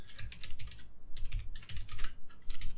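Short bursts of typing as a file name is entered on a computer keyboard, loud close keystrokes in quick clusters with brief pauses between them.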